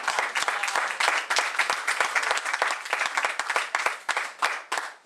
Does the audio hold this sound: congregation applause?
yes